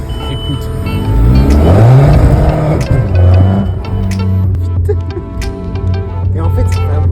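A tuned Volkswagen Golf TDI diesel engine with over 230 horsepower revs hard and close, rising and falling in pitch several times, with a rough diesel growl and people talking over it.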